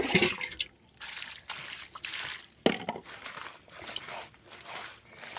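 Tap water trickles and splashes during washing in a home with a poor water supply, running close and irregular with sloshing surges, alone without talk.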